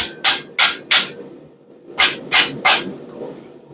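Forged steel hummingbird wings are shaped with a hammer on a post vise: six sharp, ringing strikes fall in two quick groups of three, close and loud, separated by a short pause.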